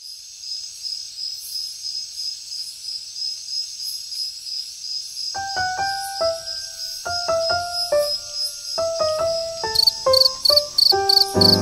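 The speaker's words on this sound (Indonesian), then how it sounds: "Jangkrik adalah serangga yang berkerabatan dekat dengan belalang." A cricket chirping loud and close in repeated short rhythmic trills, starting alone with a high steady insect tone, then sharp pulsed bursts that grow denser and louder toward the end.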